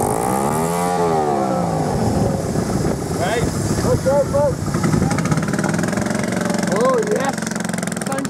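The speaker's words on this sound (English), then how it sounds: "Sounds like a Harley" A loud, rumbling motorcycle engine idles and revs nearby while people talk and shout excitedly over it.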